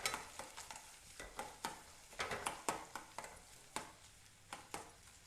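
Onions frying with a little salt for an onion gravy, stirred with repeated sharp scraping strokes against the pan over a soft sizzle; close and fairly quiet, with no talking.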